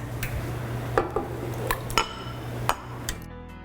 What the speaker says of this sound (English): I'm going to go ahead and add 4 eggs